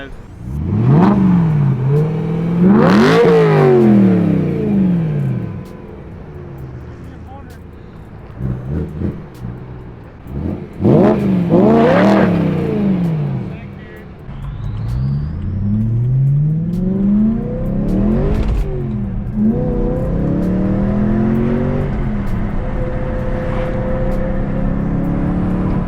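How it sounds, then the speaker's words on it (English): A BMW E92 M3 with its muffler cut for a straight-pipe exhaust revs hard several times close to the microphone, sharp rising and falling wails separated by rough idle, ending in a longer sustained burble. "I'm gonna give it a little ripper rev."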